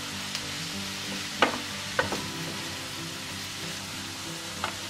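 Sliced mushrooms and onion frying in a pan, stirred for puff pastry filling: a steady loud sizzle fills the whole stretch, with a few sharp scraping knocks of the utensil against the pan, no voices.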